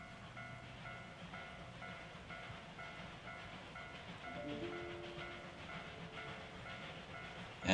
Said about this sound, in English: That sure is a train.